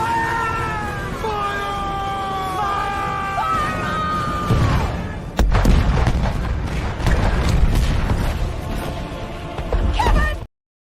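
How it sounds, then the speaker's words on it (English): A loud cannon-fire sound effect drop plays: a booming blast with a cat-like wailing tone over it, followed by a longer rumbling, crackling stretch that cuts off abruptly at the end. "we're going to get to use the Kevin Cannon drop a lot"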